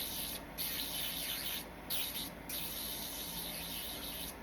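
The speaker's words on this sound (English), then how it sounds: "So I just take my e-file and just kind of roughen up the inside of the nail." Electric nail file whirring steadily while roughening the inside of a gel nail tip, a quiet continuous hissing grind with a couple of brief dips where the bit lifts off.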